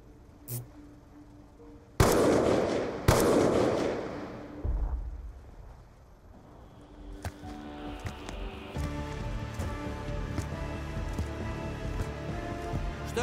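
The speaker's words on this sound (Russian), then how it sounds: "Стреляй в голову!" Gunfire in Call of Duty Black Ops 2: two sharp, loud shots ring out close together, followed by a busier, lower stretch of scattered noise and clatter.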